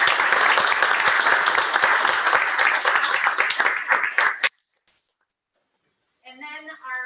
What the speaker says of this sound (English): So I just want to applaud you.